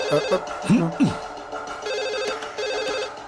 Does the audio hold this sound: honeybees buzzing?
no